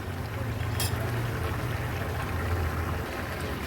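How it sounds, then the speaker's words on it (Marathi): Vegetable curry with val beans and potatoes boiling on a high gas flame, giving a steady, dense bubbling hiss with a low rumble that runs unbroken throughout. "भाजीला आता हाय फ्लेमवर एक छानशी उकळी काढून घेते."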